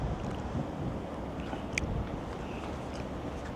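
Strong wind buffets the microphone with a steady roar on a roro ferry trip near Victoria, British Columbia. The sound is broadband and continuous, with faint background sounds and no speech.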